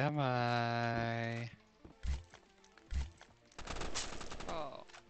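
Gunfire in a run-and-shoot video game: a couple of sharp shots, then a sustained burst of rapid fire near the end, following a held musical tone at the start, with no talk over it.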